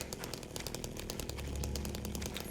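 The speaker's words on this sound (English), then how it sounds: "The chainsaw." A chainsaw in Silent Hill 2 revs with a rough, buzzing motor drone that sputters rapidly, rising in pitch and intensity partway through, loud and alone.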